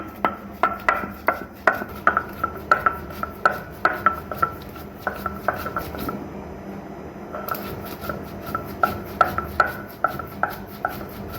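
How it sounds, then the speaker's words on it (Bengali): Spices for beef curry ground by hand, a steady rhythmic series of close grinding strokes, each a short rasping scrape repeating about twice a second, alone without speech. "মাংসতে দেওয়ার জন্য মশলা বেটে নিচ্ছি"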